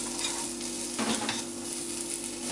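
Food tossed and fried in a little oil in a pan, a steady close sizzle with stirring scrapes and a brief louder clatter from the pan as the pieces move.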